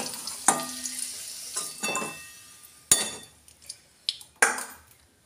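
Potatoes frying in oil for a soybean curry produce soft sizzling broken by several sharp metallic clinks and knocks of a utensil against the pan, close and intermittent.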